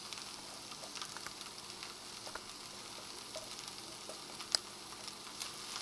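Cooked rice stir-fried with carrots and other vegetables in a pan for vegetarian fried rice, a soft steady sizzle with faint scraping stirs throughout and one brief louder clink near the end, no voices.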